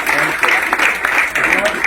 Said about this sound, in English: I think we have big round of applause here